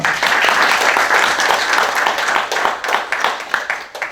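Congregation applauding at a church thanksgiving prayer night, a dense, steady burst of many hands clapping that fills the room and tapers slightly toward the end.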